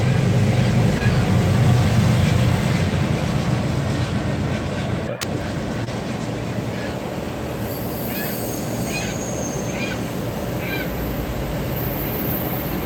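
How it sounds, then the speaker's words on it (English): A freight train of about 50 to 60 cars rolls steadily past, a continuous broad rumble of wheels on rail with faint squeals and clicks, loud and close throughout with no talking. "Not a very long train, probably 50, 60 cars"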